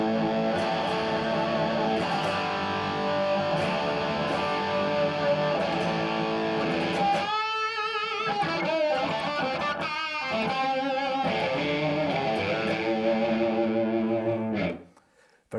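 Electric guitar with a treble booster turned fully up for a bright, saturated tone, playing continuous chords and riffs before fading to a stop.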